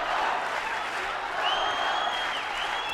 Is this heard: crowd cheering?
yes